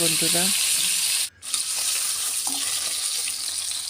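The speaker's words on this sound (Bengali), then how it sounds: "বন্ধুরা, এভাবেই মাছটা ভাজি হতে থাকবে।" Catla fish seasoned with turmeric and salt fries in hot oil, making a loud, close, steady hiss. A voice is heard briefly at the start, and the sizzle dips for a moment before carrying on.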